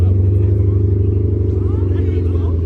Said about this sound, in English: Tesla making an engine noise?